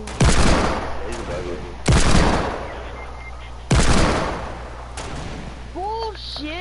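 Three loud, sharp hand cannon gunshot blasts in a video game sniper shootout, spaced about two seconds apart, each trailing into a long echoing decay, with faint background chatter and electronic game sounds.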